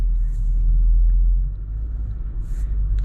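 A 2022 Infiniti QX80 SUV rolls along at night, its steady low road rumble and engine drone filling the cabin with faint higher hiss drifting in and out.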